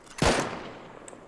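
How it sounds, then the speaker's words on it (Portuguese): Gunfire in an online multiplayer shooter game: one loud, sharp shot bursts out and trails off into a short rumbling decay, with no talk over it. "Estão a disparar contra mim, Zecas."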